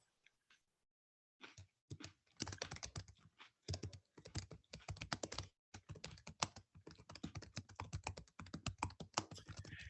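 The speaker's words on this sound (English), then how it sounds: "I can hear typing." Rapid typing on a computer keyboard from an unmuted participant in an online meeting: close, clicky bursts of keystrokes that start after a short silence and run on in uneven flurries, with no talking.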